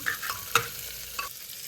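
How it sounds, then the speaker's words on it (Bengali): Vegetables stirred into melted butter in a pan, a soft steady sizzle with a few scraping clicks from the spoon, close and moderately quiet, no talking. "সবজিগুলো দিয়ে দিয়েছি এবার ভালো করে একটু মিক্স করে নিচ্ছি"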